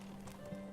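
A horse in the medieval village game Medieval Dynasty gives a brief, faint snort or whinny with soft hoofbeats, lasting under a second.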